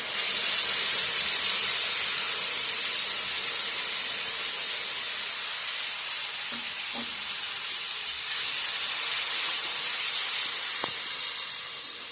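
Tomato paste hits a hot pan and sizzles loudly and steadily close up, a continuous bright hiss with a few small clinks underneath.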